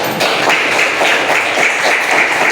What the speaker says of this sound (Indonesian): Tepuk tangan balik.